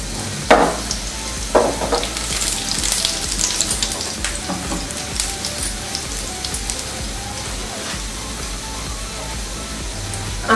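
An aloo paratha fries in a pan with a steady, close sizzle, broken by a few louder crackles and spatters, and no talk.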